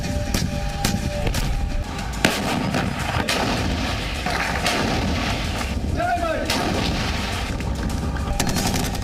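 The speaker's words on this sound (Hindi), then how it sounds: "गोले उगलती तोप दहाड़ रही हैं।" Artillery cannons fire shells during a military drill in India, repeated heavy booms landing every second or so over a constant roaring backdrop, with a voice faintly present underneath.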